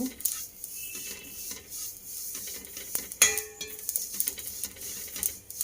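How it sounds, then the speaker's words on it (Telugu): Dry coconut being roasted in a pan for semiya kheer, heard as a spatula scraping and stirring with soft rustling and a faint sizzle, plus a light clink partway through. "ఇప్పుడు ఎండు కొబ్బరి వేయించుకుంటున్నాను"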